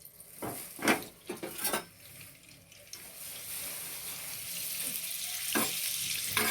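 Butter melting into hot white oil in a pan before chicken kebabs are fried gives a soft, steady sizzle. It follows a few sharp clinks and scrapes and holds at an even level to the end, with no talking.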